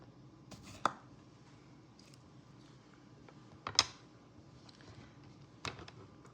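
A knife chops cucumber rounds on a cutting board in a kitchen, a few sharp, well-spaced knocks against quiet room tone.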